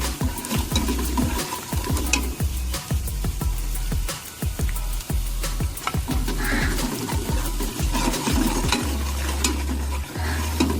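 Masala for village-style aloo gosht sizzles steadily in a pan while a spoon scrapes and stirs it in rapid, repeated strokes, up close with no talking.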